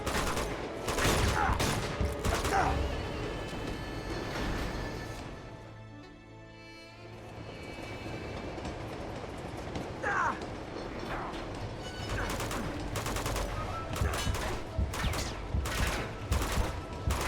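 Bursts of rapid gunfire from the video game Uncharted 2 crackle repeatedly, dense volleys broken by a brief lull, with mechanical clatter mixed in.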